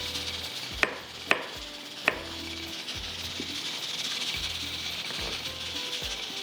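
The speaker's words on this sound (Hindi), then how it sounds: "थोड़ा सा अदरक को आपने स्लाइस में कटिंग कर लेना है" A knife chops fresh ginger into slices on a cutting board, giving several loud, sharp strikes early on followed by softer, irregular cuts, with a steady hiss in the background.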